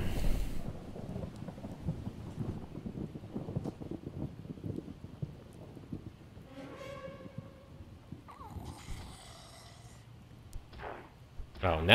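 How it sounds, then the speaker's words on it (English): Rain and rolling thunder from the video game Project Zomboid, a steady hiss of rainfall with low rumbles underneath, fairly quiet, with a voice speaking briefly near the end. "Oh, now it's raining."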